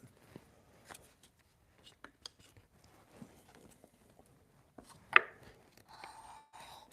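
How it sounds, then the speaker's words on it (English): A small chisel cuts wood at a hand-tool woodworking bench, giving scattered light taps and soft clicks with one sharper knock partway through. Quiet talk runs underneath. "So I use this chisel an awful lot"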